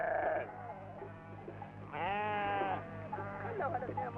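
Sheep bleat at a wealthy Bedouin family's desert tent in Kuwait, with several wavering calls close by, one long loud bleat in the middle, over a steady low hum and some background voices.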